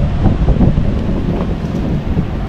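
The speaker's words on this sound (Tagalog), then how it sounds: "Kasi mahangin dito sa labas." Steady outdoor wind buffets the microphone at Punta Fuego, a constant low rumbling roar with gusty swells and no voices for a couple of seconds.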